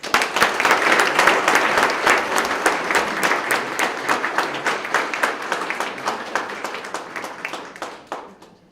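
An audience at a police swearing-in and promotion ceremony in Sarasota breaks into sustained applause, with many hands clapping close and loud before it thins and fades out near the end.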